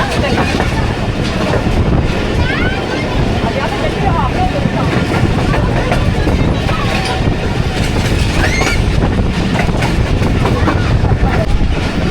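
Shah Hussain Express passenger train running on rails, a loud constant rumble with clattering wheels and rattling carriages heard from onboard, with people talking over it.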